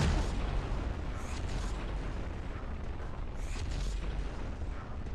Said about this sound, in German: Tankstelle ist explodiert